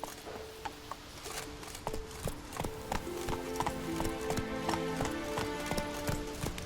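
Hooves of the horse Roach galloping in The Witcher 3, a steady rapid clip-clop rhythm on the ground, fairly close and moderately loud, with soft game ambience and music underneath.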